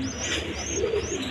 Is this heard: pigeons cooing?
yes